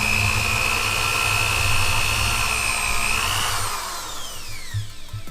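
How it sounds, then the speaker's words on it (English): A power drill boring a pilot hole while assembling a DMX decoder for LED tape, a steady loud whine that holds for a few seconds and then drops in pitch as the drill winds down. "I drilled maybe about an inch, no more. It's very sensitive. I don't need to drill much more to get that hole going."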